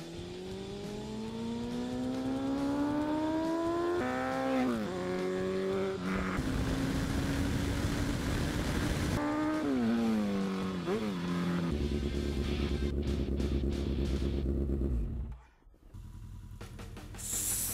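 A Suzuki RF900R motorcycle engine rising and falling through gear shifts as it accelerates, loud and close with steady road noise and a brief dip near the end.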